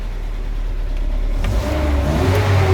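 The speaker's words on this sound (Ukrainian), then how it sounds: "Машина набирає обороти вроді би більш-менш." A GAZelle van engine fitted with LPG gas equipment idles steadily, then revs up with a rising, throaty roar during tuning, close and loud with no talk.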